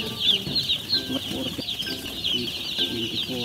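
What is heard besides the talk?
chicks in a brooder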